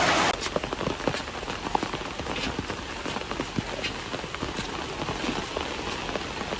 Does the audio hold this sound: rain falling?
yes